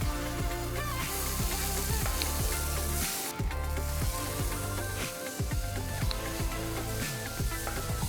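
Chopped ginger and green chilies frying in oil with cumin and ajwain seeds for a radish paratha filling, a bright steady sizzle with repeated stirring taps, accompanied by a tonal musical background.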